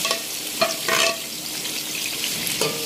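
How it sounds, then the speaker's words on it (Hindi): Chicken pieces frying with browning onions in hot oil, a steady close sizzle broken by a few sharper bursts of stirring and spatter. "चिकन फ्राई हो जाएगा तब तक।"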